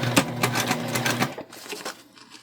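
Juki sewing machine backstitching a drawstring backpack seam, rapid steady needle clatter running loud and close for over a second, then stopping as stitching ends, with faint handling noise after.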